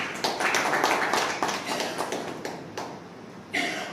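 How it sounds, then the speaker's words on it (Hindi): Audience at a Narada Muni Jayanti celebration gives a round of applause, a soft, somewhat distant patter of clapping that swells and thins in uneven waves, with a final burst near the end. "इसलिए जोरदार तालियां।"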